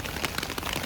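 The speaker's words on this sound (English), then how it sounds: "it's starting to rain pretty good." Rain falling on a forest trail, a dense, steady patter of drops at moderate level, brief and continuous with no voices.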